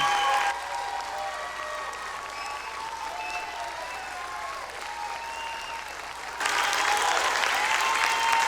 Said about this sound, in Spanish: le dé una gran ovación y un fuerte aplauso al Señor